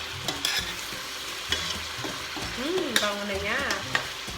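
Chicken kaldereta with parsley is stirred in a frying pan, giving a constant sizzle with scraping and clinks of the utensil. A voice speaks briefly over it, and light music plays underneath.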